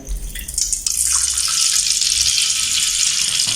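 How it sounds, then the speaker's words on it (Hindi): Water drained off boiled rice in a cooking pot makes a close, steady gushing and splashing rush, with a few drips and clinks at the start. "अभी हम इनको पानी इनका उतार देते हैं।"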